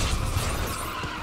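A car in the Lego Dimensions video game skids with a loud, close, continuous tire scrape and engine rumble that fades a little toward the end.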